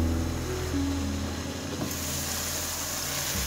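Masala spices sizzle steadily in a hot pan, a continuous close frying hiss with faint stirring scrapes and no voices.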